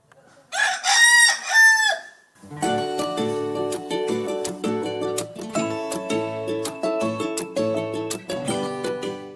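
A rooster crows loudly and close at hand, one long call, followed by a rhythmic musical track that plays on after the crow.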